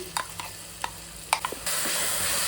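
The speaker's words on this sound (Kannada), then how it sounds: "ಅದನ್ನು ಹಾಕಿದ್ಮೇಲೆ ಅದೆಲ್ಲ ಒಂದು ಸ್ವಲ್ಪ ಹಸಿ ಸ್ಮೆಲ್ ಹೋಗೋ ಥರ ಚೆನ್ನಾಗಿ ಫ್ರೈ ಮಾಡೋಣ" Ginger garlic paste frying in a pan for tomato pulao, with soft sizzling, a few sharp scrapes and stirs of a utensil, then a louder steady hiss of frying near the end, with no talking.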